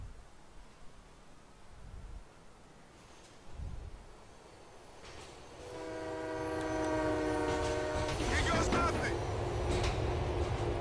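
Train in GTA: The Ballad of Gay Tony rumbling along the tracks, growing louder and closer, with a long chord-like horn blast in the second half over the roar, no clear talk.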